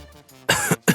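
A woman coughs to interrupt, two loud, close coughs with a brief pause between them, alone with no talk.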